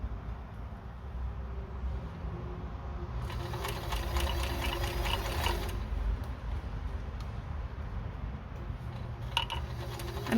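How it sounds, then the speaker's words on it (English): A sewing machine stitches a quarter-inch seam on a vest from corner to corner, a steady close mechanical whir that speeds into a faster, busier run midway and then settles back. "So I'm going to start from the corner and then sew to the other corner and then iron."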